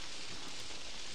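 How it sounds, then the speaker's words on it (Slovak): Steady rain in the horror video game Outlast, a soft even hiss of falling water with no talk over it. "Zdrháme, začalo tu pršať."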